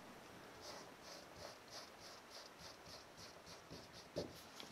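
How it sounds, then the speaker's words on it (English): An Expo dry erase marker squeaks and scratches as it is drawn over permanent marker ink, a series of faint, rhythmic close strokes, with no one speaking. "Take a dry erase marker over permanent marker."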